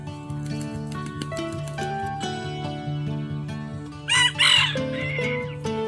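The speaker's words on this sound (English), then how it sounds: "I think he's gonna try and crow." A young rooster crows in a short, strained burst of a few seconds near the end, over a steady musical background, with no talking.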